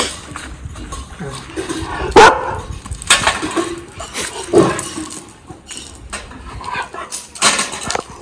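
A dog barks a few times, sharp and fairly close, amid outdoor background noise and some voices.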